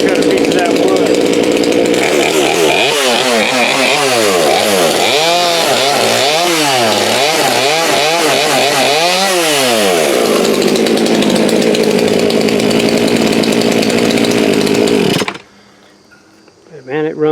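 An old Craftsman chainsaw with a newly installed carburetor cuts a piece of wood, its loud, close two-stroke engine surging and bogging as rpm rises and falls, then steadying before cutting out abruptly near the end.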